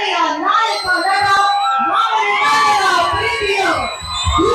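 A crowd cheers, shouts and screams to welcome Kannada film actor Diganth onstage at a public event, a dense, loud roar of many voices that holds steady throughout.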